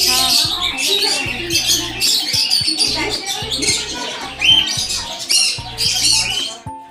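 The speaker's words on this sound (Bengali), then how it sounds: "প্রচুর পরিমাণে পাখি। আর একবার তোমরা আওয়াজটাও শুনে নাও।" A dense flock of caged birds squawks and chirps nonstop at close range, shrill calls overlapping in a busy chatter, while a person talks over them at moments.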